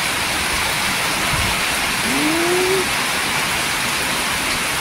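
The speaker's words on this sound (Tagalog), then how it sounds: "Lakas na lang pa rin yung ulan." Heavy typhoon rain pours down in a steady, dense hiss that never lets up. A brief faint tone rises through it midway.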